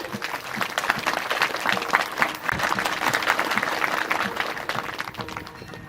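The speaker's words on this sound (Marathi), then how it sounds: "महाराज आपण सर्वांनी टाळ्या वाजवायच्या मोठ्याने" Crowd clapping at an outdoor Akhand Harinam Saptah religious gathering in Pandharwadi Phata, a dense steady patter of many hands sustained throughout, with faint voices beneath.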